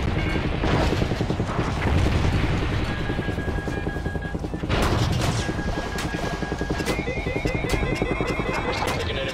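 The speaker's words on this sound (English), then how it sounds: "We're still taking enemy AA fire from behind the smokestacks." Enemy anti-aircraft fire in Call of Duty Ghosts, a continuous mechanical rattle and booming bursts over heavy helicopter rotor drone, dense and loud throughout with radio-style tones cutting in.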